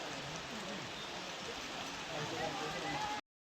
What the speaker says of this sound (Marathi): पाऊस झालेला आहे चालू.